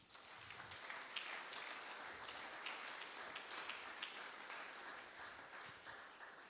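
A church congregation applauds to acclaim God, a sustained wash of clapping from many hands that stays steady and fairly soft, heard from a distance.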